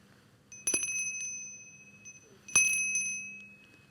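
A bright Salvation Army charity hand bell rings twice, each shake sharp and metallic with a long shimmering ring that decays slowly, heard alone and fairly close.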